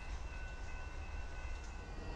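A train begins rolling on rails, a steady low mechanical rumble with a faint metallic whine, heard at a moderate distance with no voices.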